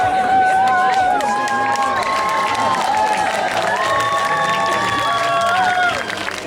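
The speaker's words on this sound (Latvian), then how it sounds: "Aplausi." Audience at a brass band festival in Līgatne, Latvia, applauding and cheering in a steady, dense wash that stays loud throughout, with whistles and voices threaded through the crowd noise before it eases slightly at the end.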